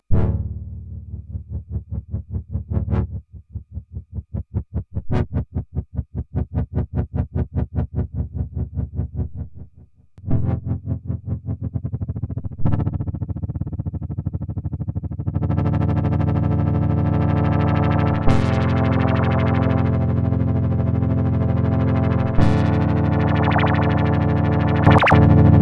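A DIY budget wavetable synthesizer with an LFO modulating its filter produces a rapid pulsing, stuttering tone that swells into a sustained, buzzy, evolving drone, with several sharp accents near the end.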